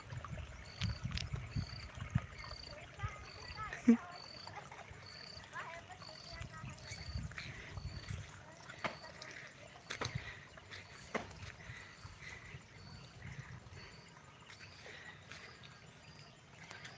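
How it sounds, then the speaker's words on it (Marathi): Water flows and trickles steadily near a spot where clothes are being washed, fairly quiet and close, with occasional louder splashes and knocks over the stream. "पाणी वाहते"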